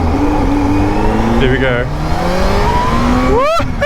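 A Kawasaki Z H2 motorcycle accelerates at roughly half throttle, its engine pitch rising through several gear changes, loud and close, with a person speaking briefly over it.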